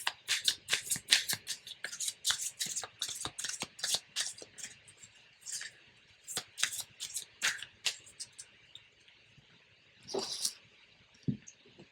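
An oracle card deck is shuffled by hand close up, with quick papery riffles and slaps repeating in bursts, then a pause and a few softer shuffles.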